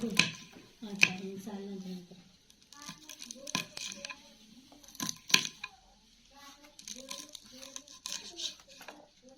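A knife chops green chillies and brinjals on a board in uneven, close thuds and clicks, with a voice talking over much of the cutting.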